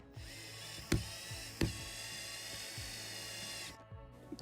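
A cordless driver sinks a screw into ceiling cladding inside an Iveco Daily camper van, a close high whirring run of about three seconds with two sharp clicks early on, then it stops abruptly.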